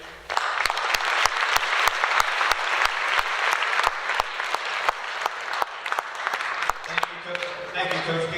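An audience applauds a coach after his speech, giving sustained, fairly loud clapping with sharp, regular hand claps heard up close. A voice begins speaking near the end.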